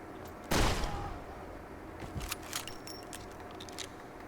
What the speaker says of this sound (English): I'm gonna shotgun you